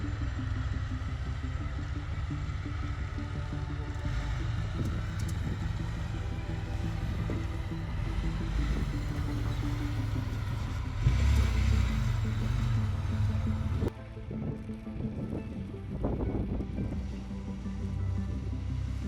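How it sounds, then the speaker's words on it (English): A powerful 280 HP turbo engine drones steadily as a Typhoon off-road buggy with automatic transmission drives, with wind and rumbling, a brief louder surge, then a lighter rattling passage. "Off-roading buggy Typhoon. It's one of the most powerful and fast ATVs for today."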